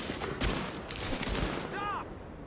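Rapid, close gunfire bursts from Tom Clancy's The Division crackle in quick clusters, with a voice shouting over the shots.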